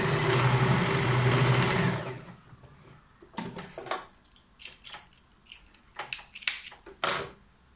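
A sewing machine stitches a fabric pleat on wide-leg trousers with a pocket, running loud and steady for about two seconds, then stopping into scattered clicks and handling noises close by.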